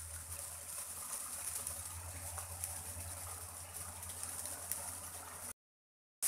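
Prawn malai curry simmering in a pan gives a steady, soft bubbling hiss that holds evenly for several seconds before cutting off into silence.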